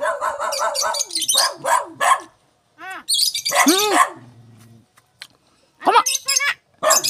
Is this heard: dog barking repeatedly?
yes